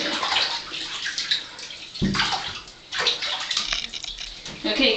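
Water splashes and sloshes in a bathtub during a cat's bath, coming in uneven bursts up close at moderate volume, with soft voices in the background.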